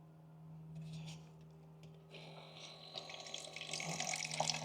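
Water runs from a tap into a container, starting as a soft trickle and growing into a fuller, louder splashing stream over a steady low hum.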